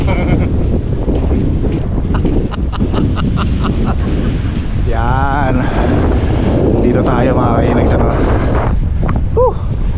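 Strong ocean surf roaring continuously at a beach in Cancun, Mexico, against heavy wind buffeting the microphone, with a person laughing and talking loudly over it.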